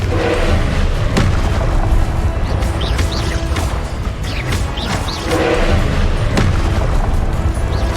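Explosive spell blasts in the Hogwarts Legacy video game, with a deep booming burst near 1 second and another around 5.3 seconds over a dense, continuous layer of game combat noise and ambient effects.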